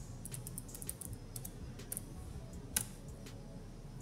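Faint computer keyboard typing, a short irregular run of light clicks with one sharper tap near the end, close and quiet against a low hum.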